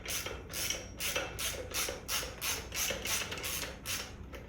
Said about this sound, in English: This time I'm going to use the 18mm wrench, 17mm ratchet.